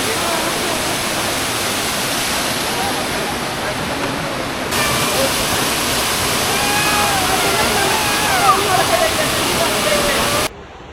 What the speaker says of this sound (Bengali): তো এখন দুর্গা ফলসের সামনে রয়েছি